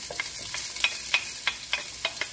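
Onion being sautéed in a pan for chop suey, with a steady hiss of frying and quick, regular stirring scrapes, close and clear, no talk.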